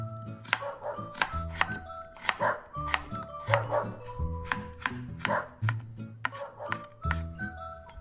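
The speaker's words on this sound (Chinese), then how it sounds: "跟着再切成丝" A knife chops a 250-gram fish, already sliced into 2 mm pieces, into thin shreds on a board, giving a steady run of sharp, close knocks about every half second with no talking.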